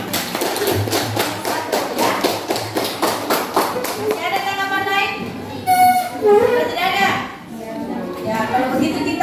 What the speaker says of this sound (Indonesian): kita kasih aplaus dulu untuk